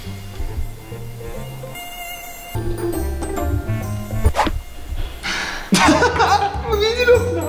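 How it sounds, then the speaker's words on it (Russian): A thin, high mosquito whine is played as a prank on a sleeping friend. It sits faintly under laughter, whispering and talk, amid shifting room noise. "Он услышал комара, он пытается рукой сейчас закрыть."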